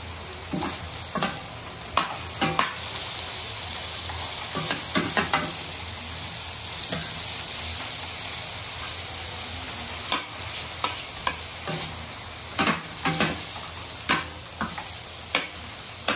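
A spoon scrapes and knocks against a pot while stirring beef lomi, with sharp irregular clinks over a continuous low simmering hiss, close and fairly loud.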